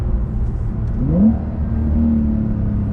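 A Porsche 992 Carrera 4S engine roars and rises in pitch as it accelerates hard under launch control, a close, loud throaty rumble that keeps building.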